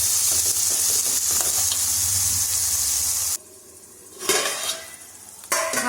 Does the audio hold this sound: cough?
no